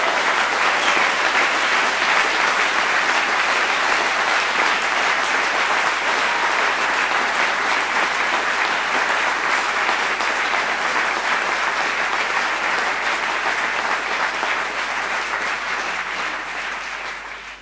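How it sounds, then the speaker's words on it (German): An audience at an Olympic reception for a rower claps steadily and loudly, a dense, even wash of applause that holds for the whole stretch and fades slightly at the end, with no voices over it. "Ich denke, das ist alle grosse Applaus wert."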